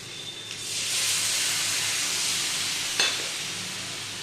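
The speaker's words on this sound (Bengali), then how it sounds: "দেখো আমি মাছের ঝোল রান্না করছি।" Fish curry cooking in a pan, a steady broad sizzle and hiss with a faint clink partway through, alone with no talking.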